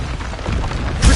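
Confringo fire spell from Hogwarts Legacy bursting as a loud, dense roar of noise with a heavier booming swell at the end.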